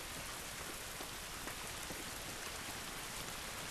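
Rain falls in the video game The Last of Us, a soft, uniform hiss of drops on surfaces, steady and fairly quiet for the whole short stretch.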